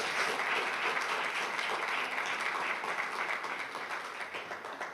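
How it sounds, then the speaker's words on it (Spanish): A church congregation applauds during a sermon: dense, even clapping from many people that holds steady for several seconds, then eases slightly toward the end. "démosle un aplauso a Dios,"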